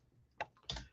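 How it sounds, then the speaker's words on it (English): Two quiet, separate clicks from a computer keyboard being typed on, faint and close in an otherwise near-silent room. "I'm doing it as I'm typing it in as I'm talking to you."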